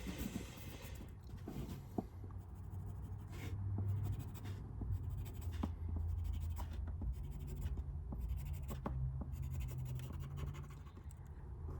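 A pencil scratches repeated short strokes across dash trim being fabricated for a 1956 Studebaker Hawk, a close, dry scraping rhythm of lines drawn one after another over a low background hum.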